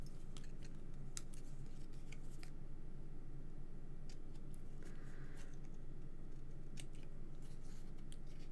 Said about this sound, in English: Little pokey out bits, and just trim them up.